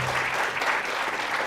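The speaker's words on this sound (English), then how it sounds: "Can we give them a big Malaysian round of applause?" A Malaysian audience claps loudly and continuously to welcome the Devcon team onto the stage at a meet-and-greet event, a close, dense burst of applause with no speech.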